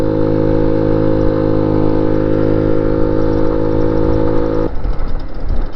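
A 1985 retro motorcycle engine runs at a steady, loud, even drone for most of the clip, then its tone shifts and roughens in the last second.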